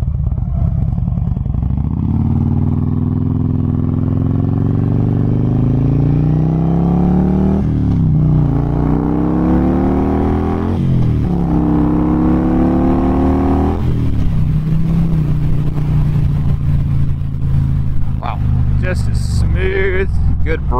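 A 2008 Harley-Davidson Road King with a Twin Cam engine rumbles loudly up close while riding, revving through several gear changes before slowing to a stop, with a rider talking over it.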